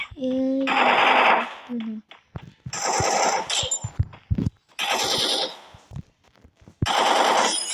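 Rifle gunfire in a mobile battle-royale video game, heard as loud bursts of rapid shots in several clusters separated by short pauses, mixed with game effects.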